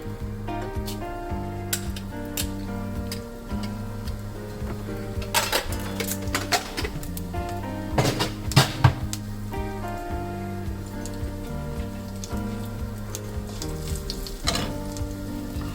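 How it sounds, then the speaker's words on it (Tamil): Mustard seeds and urad dal splutter in hot oil in a home kitchen, giving irregular sharp pops and crackles over a low steady sizzle, with a few louder bursts mid-way and no talk. "இந்த மாதிரி எண்ணெய் காயவுமே இதில் கடுகுளுந்தம் பருப்பு பொரியவுமே"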